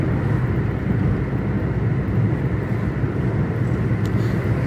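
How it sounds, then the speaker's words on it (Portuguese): Steady roar of cars streaming along a São Paulo viaduct near Avenida Paulista, a loud continuous low traffic rumble with no gaps and no talking. "a questão do barulho dos carros passando"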